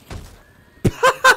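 Horse neighing in the video game Ghost of Tsushima: after a soft opening whinny and a brief lull, a loud snort and two strong, ringing neighs follow in close succession.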